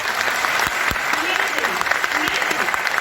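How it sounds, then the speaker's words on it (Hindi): Audience applause for the organizers at a Modicare training event in Mumbai, a dense steady clapping throughout with some voices mixed in. "ऐसा सारे के सारे ऑर्गेनाइजर्स के लिए जोरदार ताली बजा दीजिए।"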